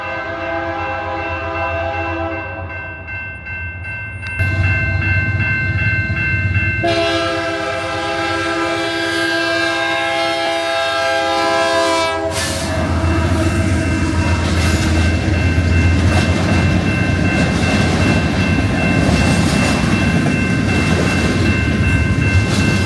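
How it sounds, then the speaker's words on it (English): A train rumbles past up close, its horn blaring in long sustained blasts over the steady roar and clatter of the cars. "Trains are coming through."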